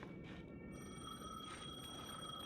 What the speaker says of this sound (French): Le téléphone sonnait.